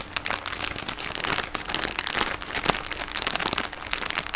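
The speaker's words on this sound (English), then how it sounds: "This is a nice bag. It makes a good sound." A plastic bag holding cotton balls crinkles steadily in close, soft-spoken handling, a dense run of small crackles and rustles with no voice.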